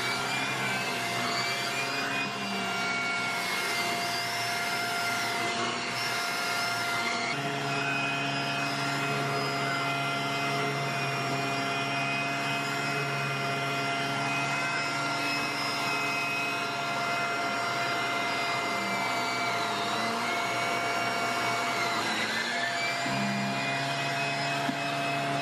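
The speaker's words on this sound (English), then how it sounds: "I'm still obsessed with this vacuum." A vacuum cleaner runs with a continuous, loud, steady whine and hum that lasts the whole stretch, with slight shifts in tone as it moves.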